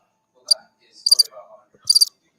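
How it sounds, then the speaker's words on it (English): A crickets chirping sound effect from a soundboard: three short bursts of high trilled chirps with faint lower tones between them, close and clean over silence. "This one here is crickets."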